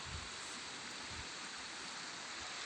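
A river flows with a steady, full rush of water that stays even and close throughout, and no voices can be heard.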